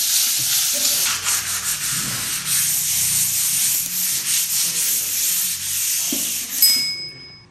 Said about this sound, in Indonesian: Oke, kita amplas.